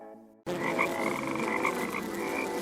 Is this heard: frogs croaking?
yes